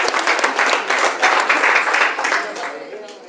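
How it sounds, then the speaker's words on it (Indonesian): A room full of attendees at an Elken spirulina sales presentation bursts into loud, dense applause, swelling briefly and then tapering off after about three seconds. "Dan tepuk tangan ya spirulina"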